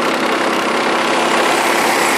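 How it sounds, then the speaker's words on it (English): A motorbike engine during a ride on a mountain road, a loud steady drone with wind rush, close and constant and with no talk. "I don't have a license for this motorbike, but that's okay because you don't need one."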